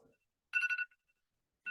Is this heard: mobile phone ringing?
yes